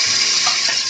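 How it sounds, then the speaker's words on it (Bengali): Vegetables hit hot oil in a pan for fried rice, giving a loud, continuous hiss of sizzling with no voices. "ভিউয়ার্স দেখুন, তেলটা গরম হয়ে গেছে, আমি একে একে সব সবজিগুলো দিয়ে দিব"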